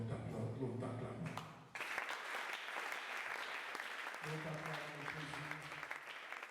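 A church congregation claps steadily in acclaim of Jesus, the dense applause close and sustained, with voices mixed in.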